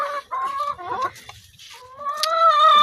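Chickens cluck and chatter nearby in short bursts, then one hen lets out a longer, drawn-out call. No voices.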